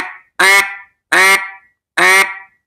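A handheld duck call lure gives three loud, evenly spaced nasal quacks at close range, each one sharp and brief, with silence between them and no voices.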